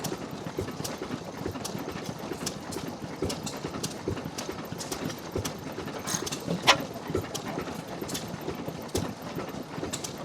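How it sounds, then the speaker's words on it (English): A vintage 7 horsepower Tangye oil engine with hot-tube ignition runs on kerosene at an outdoor engine rally, giving a steady stream of clattering mechanical beats at moderate distance with no talking. "Another one of my engines, a 7 horsepower Tangy oil engine."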